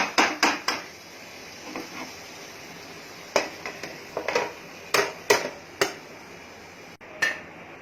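Sharp metallic clatters and knocks of a lid being set over a pan of cooking lotte fish, about a dozen irregular close taps in bursts over a soft background hiss, no talk.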